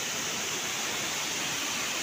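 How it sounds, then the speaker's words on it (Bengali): Water of the Seti River in Pokhara gushes down like a waterfall, a dense, steady, hissing rush that fills the whole moment without pause or voices. "ঝর্ণার মতো কলকলিয়ে পানি পড়ছে।"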